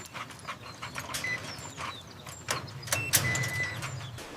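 Rottweiler dogs pant steadily and fairly close, with faint birdsong and brief mechanical noises around them and no talk.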